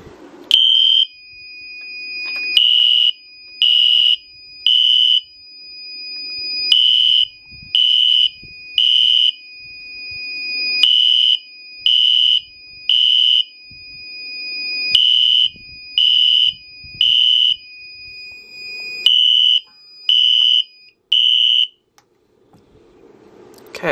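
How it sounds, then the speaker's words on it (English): A Silent Knight SK-2 fire alarm panel on full-wave rectified power sounds a loud, steady electronic tone in repeated short pulses, with brief pauses between bursts, alone with no talking. "that's what the alarm sounds like on full wave rectified"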